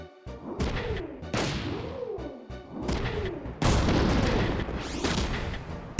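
Gunfire in the Front Mission 3 mech video game: repeated heavy bursts of shots with whooshing sweeps between them, loud and close, building to a sustained barrage with a sharp crack at the very end.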